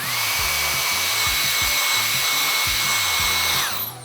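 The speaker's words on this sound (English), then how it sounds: "I'm gonna take my blow dryer." A handheld blow dryer runs steadily and loudly on hair in a salon, a constant whirring hiss with a fluctuating low hum from the airflow, then cuts off and spins down at the end.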